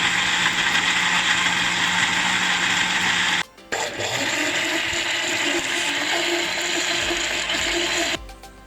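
An electric mixer grinder blends roasted raw mango chutney with tomato, lemon, green chili and black salt, whirring loudly and steadily, cutting out briefly midway, then resuming before stopping near the end.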